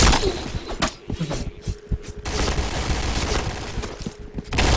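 Loud, close gunfire in the Point Blank shooter game, with rapid automatic bursts and single sharp shots rattling almost continuously throughout, mixed with heavy thuds and game effects.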